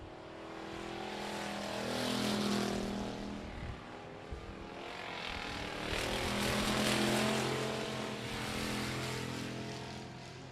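Stock race cars, including Kyle Workman's number 40 Double K car, lap the I-37 Speedway oval with a steady, dense engine roar that swells loudly and fades as the pack sweeps past.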